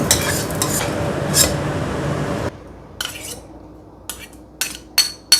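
Fried rice stirred and scooped from a sizzling pan, then served with metal utensils onto dishes, with steady frying noise giving way to sharp clinks and scrapes of cutlery on plates, close and alone.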